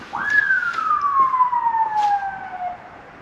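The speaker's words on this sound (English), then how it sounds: "What a strange sounding siren." A single siren tone sweeps up quickly, then glides slowly downward for a few seconds, loud and fairly close, with faint background noise, at a train station.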